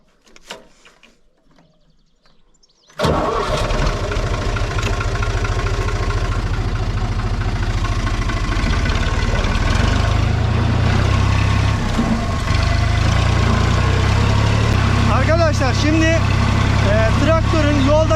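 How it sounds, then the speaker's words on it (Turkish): Universal 453 tractor diesel engine starting after a quiet moment, then running steadily and loud with a deep rhythmic chug for the rest of the clip, no talk over it. "Bismillah diyelim traktörümüzü çalıştıran kontak burada arkadaşlar."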